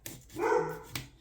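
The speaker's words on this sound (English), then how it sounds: "You may be able to hear my dog barking in the background." A pet dog barks a few times in the background indoors, with one longer bark and a shorter one shortly after, moderately loud with no talking.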